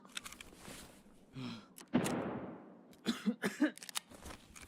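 A player coughs several times in Escape from Tarkov, a few short close bursts spread through the clip with quieter gaps and some background game noise.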